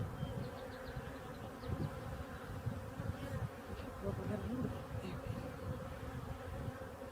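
Honeybees buzz steadily and densely throughout a hive inspection, a continuous close swarm drone with individual bees flitting near the microphone.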